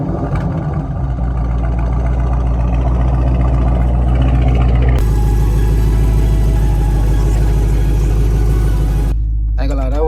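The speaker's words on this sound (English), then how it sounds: "Let me get y'all a little cold start, though." Dodge Charger Scat Pack with a 392 Hemi engine, heard loud and close as a deep, steady rumble that shifts pitch partway through and cuts off near the end, with a voice talking over it.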